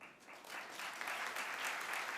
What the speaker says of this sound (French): applaudissez les podcasteurs et podcasteuses qui sont nommés ce soir.